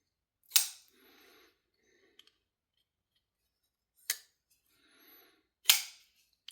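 A Sencut Hyrax folding knife flicks open with sharp, crisp snaps, three distinct clicks spaced apart, each followed by faint metallic rustle of handling, close up and quiet otherwise.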